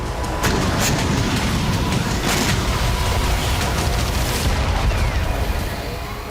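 Continuous heavy rumble with scattered sharp bursts, like distant blasts and gunfire blending into a constant roar, from an explosion in Kafr Kila, with no quieter gaps throughout.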